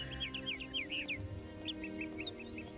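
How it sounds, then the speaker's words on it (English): Loud, shrill bird chirps from a scene in the adventure game Syberia, a rapid series of repeated high tweets followed by a second, sparser run of calls over a low ambient hum. "the birds are so loud in this scene"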